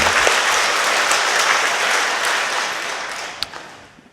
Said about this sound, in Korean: 우리 미리 한번 박수 한번 쳐드릴까요?